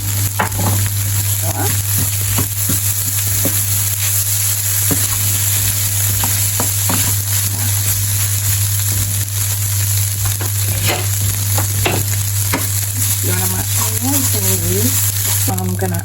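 Tofu frying in a pan, a steady close sizzle with occasional stirring scrapes and a constant electrical hum beneath, continuing without a break.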